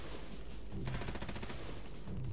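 Rapid bursts of gunfire from the game USC Counterforce, a dense rattling volley running through most of the stretch at steady loudness, with game sounds around it.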